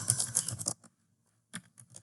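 Keyboard typing while entering C code for a division printf statement, a quick burst of close, light key clicks, then a pause before another short flurry of taps.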